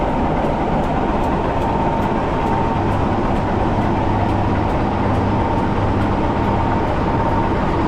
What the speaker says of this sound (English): There we go, 26007, one of the gas locomotives, which has come in behind.